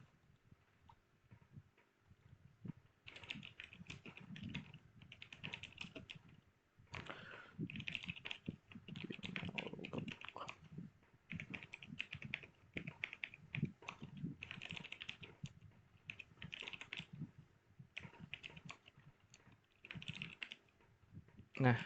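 Quiet, close clatter of typing on a computer keyboard, with irregular runs of key taps and pauses, under a soft voice explaining steps while working on an Android Studio app.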